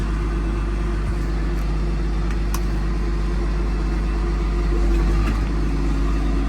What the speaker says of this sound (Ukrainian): Ну все, трактор їде вперед.